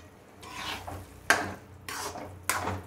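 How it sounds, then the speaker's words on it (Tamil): A spoon stirs carrot halwa in a pan with fried cashews, almonds and raisins, giving a few separate scraping, clinking strokes against the metal, close and fairly quiet, with no voices. "இப்போ நல்லா ஒரு 2 கிளறிடலாம்."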